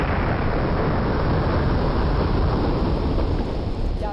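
Thunderstorm on the banks of the Mekong River in Cambodia, heavy steady rain with deep rolling thunder rumbling beneath, loud and continuous with no talk.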